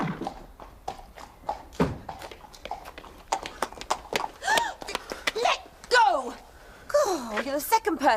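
Horse hooves clip-clop in a steady, close rhythm while people talk over them.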